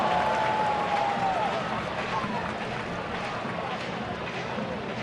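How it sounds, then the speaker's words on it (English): A lively crowd roars and cheers through a Cleveland at Chicago baseball game in May 2012, a steady wash of stadium noise from start to finish with an announcer talking over it. "Another lively crowd."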